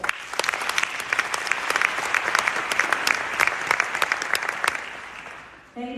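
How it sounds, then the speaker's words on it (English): Audience applause at a Doctor of Philosophy honoris causa degree conferment ceremony for Rev Dr Purity Malinga, steady dense clapping from a large crowd sustained for about five seconds before it cuts off. "A round of applause."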